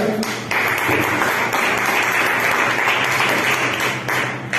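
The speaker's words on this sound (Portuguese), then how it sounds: "Podemos aplaudir o Senhor por essa palavra." Church congregation applauding during a worship service, a steady, full wash of clapping from a large room that swells after a brief start and holds to the end.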